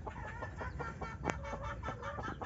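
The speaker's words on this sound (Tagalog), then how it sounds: "Ito yung ating bantam ngayon na pwede na pang next season." Bantam chicken clucking in short, repeated close calls with soft throaty notes and one sharper squawk partway through, heard over faint background noise on a farm where gamefowl are bred.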